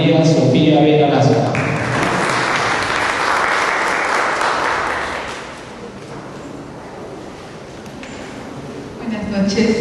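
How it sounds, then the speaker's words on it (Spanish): An audience applauds in welcome at an academic session on administrative procedure. The clapping is loud and dense, then fades partway through, with voices audible at the start and end. "Recibimos con un fuerte aplauso a la doctora María Sofía Vera Lazo"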